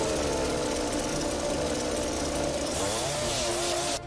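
Chainsaw cutting through hard oak wood, a loud continuous close-up engine drone with steady high-pitched whine throughout, easing off briefly at the very end.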